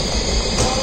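A train at a Milan station gives a loud, continuous rumbling roar, close and steady through the brief moment.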